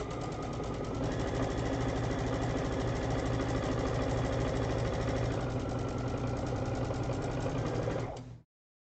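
A sewing machine stitches fabric along an edge in one long continuous run, with a fast, even mechanical chatter and hum that stops abruptly near the end.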